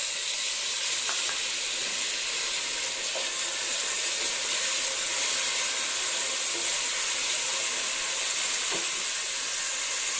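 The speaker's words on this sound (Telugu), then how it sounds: "ఉల్లిపాయల ముక్కలు అయితే మనకి వేగిపోయాయి. ఇందులోకి టమాటా ముక్కలు వేసుకుందాం." Onion and tomato pieces frying in a pan, a loud continuous hissing sizzle held evenly throughout, close by, with a few faint clicks and no voices.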